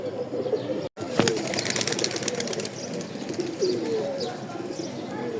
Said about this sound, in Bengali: এখন দেখি কবুতরটা নামেলে আপনাদেরকে দেখাচ্ছি।